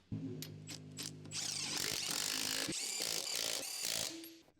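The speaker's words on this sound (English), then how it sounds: "Use a large 19mm deep socket with a power impact wrench to tighten the wheel bolts." A power impact wrench with a 19mm deep socket tightens wheel bolts on a Honda's rear suspension, with short whirring bursts followed by a sustained loud rattling hammer, close and without talk.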